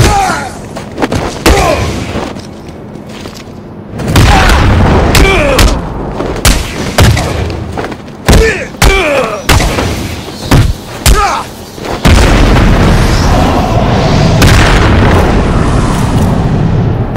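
Explosions in the video game Batman Arkham City: repeated loud, sharp booms and blasts in irregular bursts, some overlapping into a dense, roaring stretch near the end.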